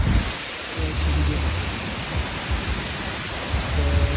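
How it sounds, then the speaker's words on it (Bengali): Steady broadband rush of waterfall spray and wind along the road from Lachung toward Zero Point, loud and continuous throughout, with low rumbling gusts. "অনেক ঝর্ণা, একটা বাতাস, বৃষ্টির একটা বাতাস আছে ঝর্ণার থেকে।"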